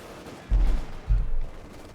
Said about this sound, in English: Straight into the sniper fire here.